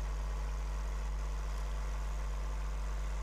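Tractor engine idling in Farming Simulator 2013, a steady low mechanical hum with constant drone and no variation, alone without voices.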